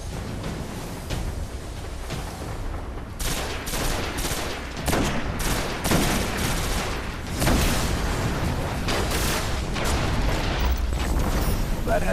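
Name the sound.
gunfire in the video game Destiny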